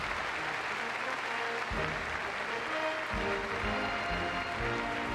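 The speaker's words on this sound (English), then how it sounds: "let's give them a big round of applause" Sustained audience applause for a Royal Air Force Police dog display at Crufts 2014, a dense, steady clapping from a large indoor crowd that fills the whole stretch.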